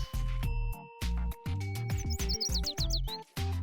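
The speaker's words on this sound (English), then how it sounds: "The music of birds playing and chirping joyfully." Bright, quick bird chirps and trills from the video game Blue Archive rise over a steady, loud musical backing, with short rhythmic notes repeating throughout.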